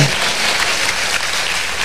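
Congregation at a Sunday televised Mass applauding, a dense continuous wash of many hands clapping, loud and steady for a couple of seconds with no talking over it.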